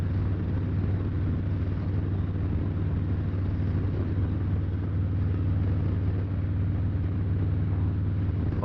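Harley-Davidson Street Bob motorcycle with its 107 engine under way, giving a steady, loud, continuous low engine drone with no breaks and no talking.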